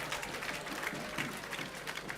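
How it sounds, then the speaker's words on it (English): An audience at a pull-out parade applauds, with a crowd clapping steadily at moderate volume and a few louder claps standing out along the way. "Once again, a very resounding applause for our very own Mama."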